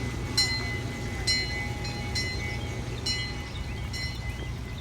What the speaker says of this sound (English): Pretty neat looking train they got going on here.